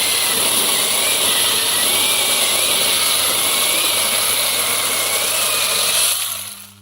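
A Bosch CSM 1815 18 V cordless mini chainsaw with a 5 Ah battery runs steadily at high pitch cutting wood for several seconds, loud and close, then winds down at the end.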